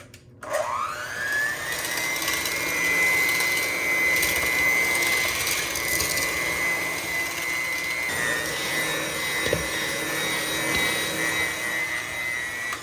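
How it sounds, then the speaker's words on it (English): An electric mixer with a small whisk attachment beats deviled egg filling. The motor spins up quickly, then holds a loud, steady whirring drone for over twelve seconds, close by and without talk. "I like to use my little whisk on my mixer."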